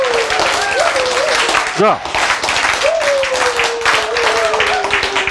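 An audience claps loudly and continuously as a crowd, a dense patter of many hands over which someone speaks and briefly sings out.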